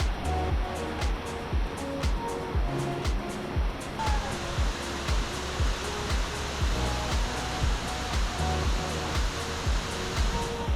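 A big waterfall near Cebu City in the Philippines, heard as a steady broadband roar of falling water. It stays loud and constant with faint rhythmic thuds underneath.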